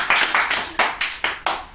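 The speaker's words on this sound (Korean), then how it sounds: "박수 한번 쳐야겠다" Seven crisp hand claps ring out in a quick, fairly even rhythm from a small group at a Buddhist college class, close and distinct with brief gaps between them.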